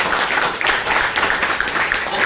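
Audience applause at a network-marketing seminar hall, a dense steady wash of many hands clapping at close range, continuous and fairly loud for its whole length with no voices on top.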